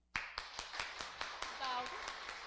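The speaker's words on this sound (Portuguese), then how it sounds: "Batam palmas." Audience hands clapping at a talk on autism, a burst of sharp claps in a roughly even rhythm over about two seconds, fairly faint in a room, with brief talking mixed in.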